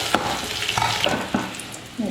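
Mustard seeds, chopped onion and curry leaves fry in hot oil in a Kerala kitchen while papaya theeyal is made, crackling and sizzling close up with sharp pops and stirring clinks.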